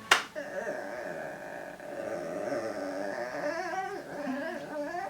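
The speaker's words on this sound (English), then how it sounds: "Both my dogs are in here and they're just like trying to get involved." Two dogs whimper and yip indoors, their thin whining cries running steadily for several seconds beneath someone talking.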